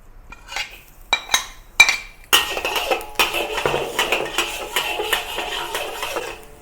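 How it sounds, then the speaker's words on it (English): Fresh garlic goes into oil in a pan for mushroom fried rice, with a few sharp metal clinks of utensil on pan first, then a steady close sizzle and scraping of stirring that runs to the end. "add some more oil to saute the fresh garlic"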